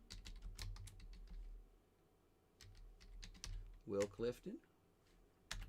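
A folder name being typed on a computer keyboard, with rapid close keystrokes in irregular bursts under quiet room tone and a few spoken words.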